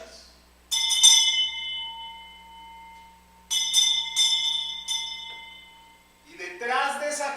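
A bright bell rings twice, each strike leaving a long shimmering decay, before a voice begins speaking at the end.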